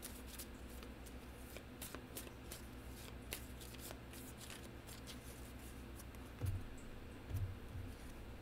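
A deck of playing cards being shuffled nearby, with repeated quick riffles and soft flutters over a low steady background hum, and no voices.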